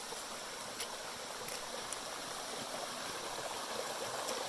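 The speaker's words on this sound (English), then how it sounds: "I just came across my first water crossing and this cute waterfall." Small waterfall at a trail water crossing on a solo hike, a steady, soft rush of falling water with a faint gurgle, continuous and fairly quiet with no voices.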